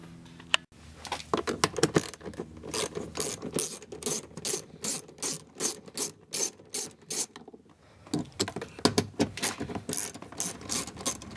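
A ratchet loosens two 10mm bolts holding an interior cover panel in place, giving two long runs of quick, close, loud pawl clicks separated by a brief pause, with no talking.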